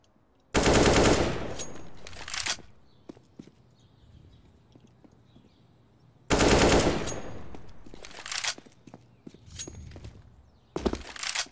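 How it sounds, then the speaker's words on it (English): USP pistol shots ring out in Counter-Strike: Global Offensive, loud sharp bursts in two main clusters with quieter in-game clatter and footsteps between them, no speech. "Nice shot from SIMPLE with the USP"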